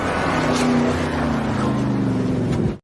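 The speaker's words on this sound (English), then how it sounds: "they decided to pull the gold using a rope tied to the car" A car engine strains while pulling a load of gold by a tied rope in the 2022 film Gold: a loud, steady droning motor with a constant pitch runs throughout, then cuts off abruptly at the end.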